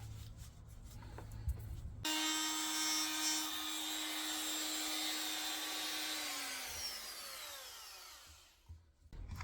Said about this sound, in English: And then I can hold the plywood and router the piece.